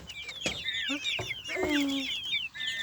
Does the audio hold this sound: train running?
no